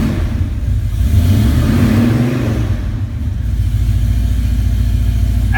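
A 1967 396 V8, freshly cold-started on a chilly day, runs at a steady, loud, close-up rumble with a brief rev swell early on, no talking over it.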